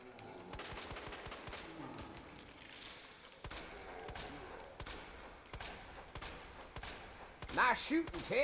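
Gunfire from a Resident Evil video game: rapid bursts of shots and repeated sharp reports, with a louder cluster of blasts near the end and faint voices underneath.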